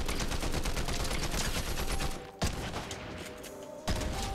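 Rapid bursts of automatic gunfire from a gun in the video game Fortnite, loud and near, sustained for about two seconds, then a pause broken by two sharp single shots.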